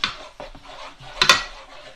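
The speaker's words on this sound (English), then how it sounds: "And I'm just stirring this up in here." A spoon scrapes and clinks against a pan while stirring a stuffed bell pepper filling with tomato paste, a few short close metallic scrapes and taps with quiet gaps between them.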